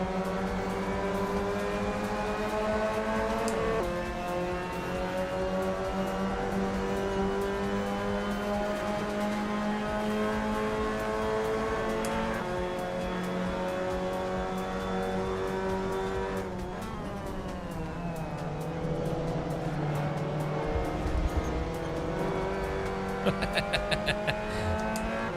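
A race car engine in the Assetto Corsa sim racing game drones steadily for the whole stretch, its pitch holding and then shifting as the revs change, with a brief tire squeal and clatter near the end.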